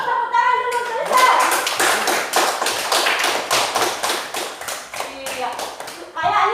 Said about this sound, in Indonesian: Tepuk tangan dulu Naisel